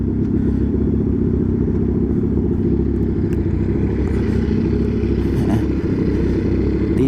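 A motorcycle engine runs close by with a loud, steady low rumble and clatter that holds throughout, with no talking over it.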